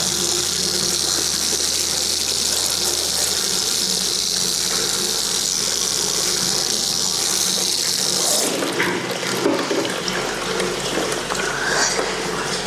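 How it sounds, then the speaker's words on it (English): Water streams steadily over a synthetic wig as conditioner is rinsed out, a continuous rushing splash that shifts in tone partway through as the flow or position changes. "So it's really good to make sure we rinse all the conditioner out."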